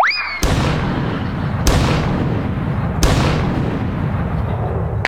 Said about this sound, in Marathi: या पंचला त्याने 3 तोफांची सलामी दिली बघ.